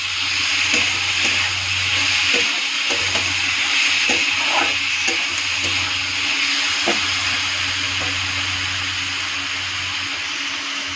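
Green chili paste being stirred in a hot frying pan with oil, a steady sizzle and hiss running throughout with soft scraping stirs, close and continuous.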